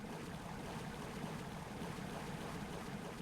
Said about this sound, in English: I'm just gonna unpause all of these water pumps.